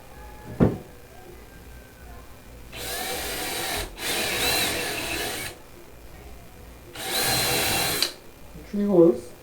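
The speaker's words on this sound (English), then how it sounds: "I take my drill with a 1/4 inch spade bit," A power drill fitted with a 1/4 inch spade bit pre-drills holes in three separate whirring bursts of a few seconds each, loud and close, with short pauses and a faint clatter between them.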